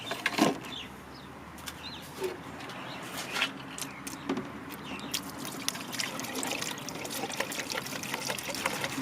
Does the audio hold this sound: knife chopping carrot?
no